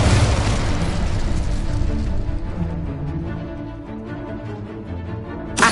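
A spellcaster in a video game casts the Incendio fire spell, giving a loud, deep burst like a fiery boom that rumbles and slowly fades, with a second sharp hit at the very end.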